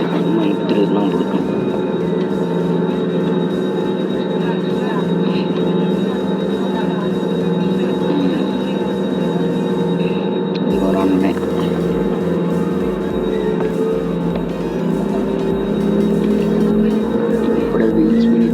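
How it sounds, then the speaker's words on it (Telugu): A passenger jet taxis and turns toward the runway, its engines giving a steady, loud cabin hum with a low rumble that deepens partway through. "ఇప్పుడు మన ఫ్లైట్ అయితే రన్వేకి తిరిగిపోతుంది అన్నమాట"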